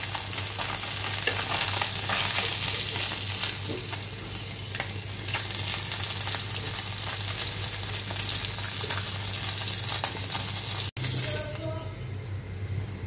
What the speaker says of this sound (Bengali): একে একে সবগুলো বাইলা মাছ ঠিক এইভাবে আমি ভেজে নেব। তেল লাগবে, তাই আরও কিছু তেল দিয়ে দিচ্ছি আমি।